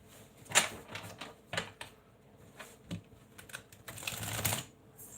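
Tarot cards being shuffled by hand during a live reading, a run of soft riffling and flicking bursts, quiet and close, with a denser flurry near the end.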